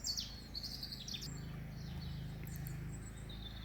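Birds chirping outdoors, several faint high tweets scattered over a low steady background hum, somewhat distant with no speech.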